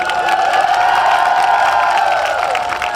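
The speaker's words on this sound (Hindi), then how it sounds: "अच्छा, ये आगे वाले तालियां बजा रहे हैं" Crowd at a poetry recital in Karachi erupts in steady, loud cheering and applause, a dense continuous roar of voices and clapping filling the space without pause.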